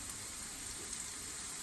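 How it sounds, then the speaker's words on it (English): Lion's mane mushrooms saute in a hot pan, giving a brief, steady, hissing sizzle at moderate level with no voices. "we're gonna let these saute probably for about 2 minutes on the first side"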